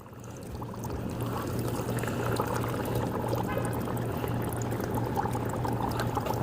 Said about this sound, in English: It's when I get to dunk the plant under the water.